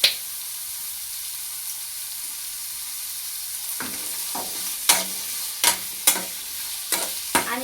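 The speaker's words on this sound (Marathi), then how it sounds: "आणि 5 मिनिट असेच कांदे परतून घ्यायचे." Onions sautéing in a pan for a Maharashtrian onion chutney: a soft, steady sizzle with a few sharp scraping stirs near the end, no voices.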